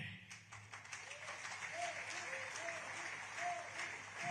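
Audience applause at a speech to the Indian community in Nigeria, a steady sustained clapping from a large crowd that holds at an even level throughout, with a faint voice or two beneath it.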